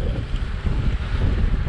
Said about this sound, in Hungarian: Csalóka a napsütés, erősen fúj a szél